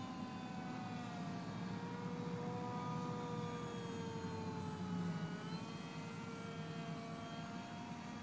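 Parkzone Icon A5 electric RC seaplane flying loops at three-quarter power, its motor whine rising and falling in pitch as it passes, fairly faint and distant, with no talking.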